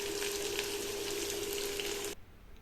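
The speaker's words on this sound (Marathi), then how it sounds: "आता टाकूया कांदा. कांदा पण छान लालसर रंगावर परतू द्यायचा." Onion frying in hot oil in a pan: a dense, steady sizzle, close and loud, cutting off abruptly near the end.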